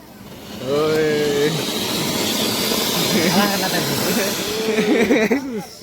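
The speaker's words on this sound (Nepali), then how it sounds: "अब फुलझारीको बारी हो आइतको वर्षा अब आगोको वर्षा हुनेवाला छ" A Diwali sparkler burns with a continuous, fairly loud fizzing hiss that runs for several seconds, while voices talk and exclaim over it.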